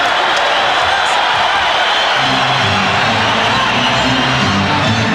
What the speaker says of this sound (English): the crowd getting very antsy